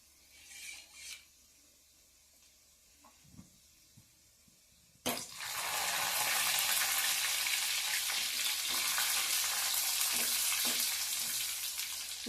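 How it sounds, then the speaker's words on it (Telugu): Fenugreek seeds and curry leaves hit hot oil in a pan with a sudden loud crackling sizzle that keeps going steadily, preceded by a few quiet clinks. "ఇప్పుడు ఈ ఏగుతూ ఉంటుండగా లాస్ట్లో కరివేపాకు వేసుకుందాం"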